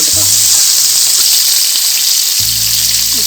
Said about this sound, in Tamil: தக்காளி, கருவேப்பிலை போட்டு நல்லா வதக்கிடலாம்.